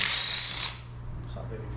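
Power tool spins off a bolt on a Ford Mondeo 2.5 engine in one close whirring burst that cuts out after under a second, leaving a low hum and faint workshop sounds.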